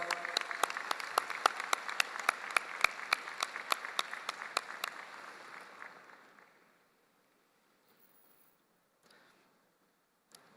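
Crowd at a Sunway University convocation ceremony claps for a musical performance, a moderate burst of distinct claps that thins out and fades to near silence after about six seconds.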